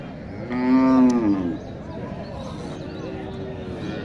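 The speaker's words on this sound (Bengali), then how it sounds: "ওটা বেশ বড় সড় একটা গরু।" A large dairy cow at a village cattle market in Naogaon lets out one loud, clear moo lasting about a second, followed by quieter crowd murmur and a faint second low call.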